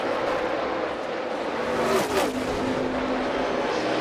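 NASCAR race cars racing at Indianapolis, a continuous roar of engines with one car sweeping past in a brief rising-and-falling whine, set against a dense wash of distant track noise.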